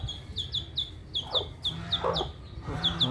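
Native chicken chicks peep in repeated high chirps, several overlapping in a quick uneven series, with clucking and soft shuffling under them.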